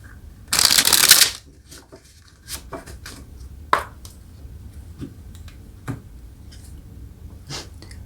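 Tarot cards shuffled in a single loud burst of riffling, followed by sparse soft taps and clicks of cards being laid down in a quiet room.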